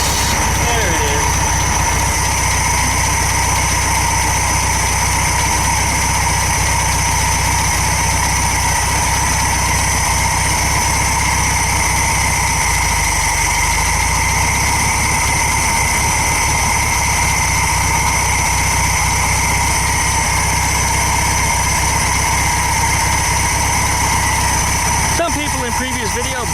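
Air-cooled VW Beetle engine idling after a starter replacement, running in a steady, continuous hum close by for the whole stretch, with a voice heard over it at times.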